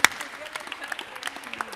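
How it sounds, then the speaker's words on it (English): Audience applause at a celebration of Filipino culture, a light scatter of clapping with a sharp clap at the very start, continuing evenly at moderate distance. "I think she deserves another round of applause."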